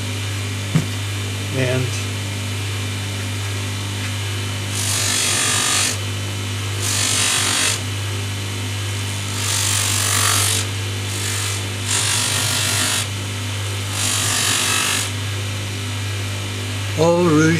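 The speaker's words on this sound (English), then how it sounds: "So I've put my polishing buff on this side, and I'm going to use the black rouge." A jewellery polishing buff wheel loaded with black rouge hums steadily throughout, with several brighter rubbing bursts as metal is pressed to the wheel, close by, while a person says a word.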